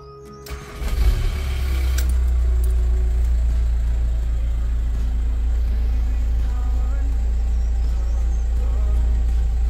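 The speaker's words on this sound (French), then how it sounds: "Maintenant, on va allumer le moteur." A converted camper van's engine catches after a brief cranking burst and settles into a steady, loud, close idle that runs continuously to the end.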